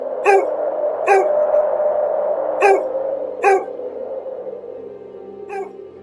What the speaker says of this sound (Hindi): कभी-कभी कुत्तों के भौंकने की आवाज आती